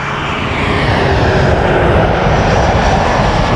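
A fixed-wing airliner takes off from runway 06 left at Toronto Pearson Airport, giving a loud, steady engine roar that holds throughout with no pauses.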